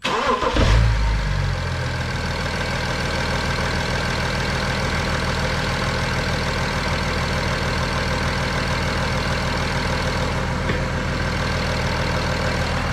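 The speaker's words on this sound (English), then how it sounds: "we're going to do a quick cold start" A BMW 335d diesel engine cold-starts with a brief cranking burst, then settles into a steady, loud, gravelly idle that runs on unbroken close by.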